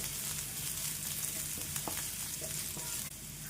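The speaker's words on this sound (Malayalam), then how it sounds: "നമുക്ക് ഗാർലിക് ഇട്ട് കൊടുക്കാം നന്നായിട്ട് മിക്സ് ആക്കാം ഇനി റോസ്റ്റായി വരട്ടെ" Garlic frying and roasting in a pan for a pocket chicken dish: a soft continuous sizzle with occasional stirring scrapes and clicks, close but quiet, with no talk.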